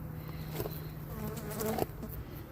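A honey bee swarm inside a plastic tote swarm trap gives a steady, dense buzzing hum with some brief louder passes, heard close and alone without talk.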